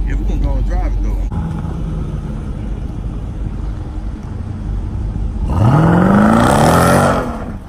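A Jeep Grand Cherokee Trackhawk SUV drives with a steady engine hum, then its engine revs hard and climbs in pitch as it accelerates near the end, loud and close, with people talking over it.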